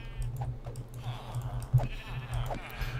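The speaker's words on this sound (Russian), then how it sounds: "Привет, овца." A sheep in the Minecraft video game bleats several short times over a low, steady game rumble, with faint clicks and no clear speech.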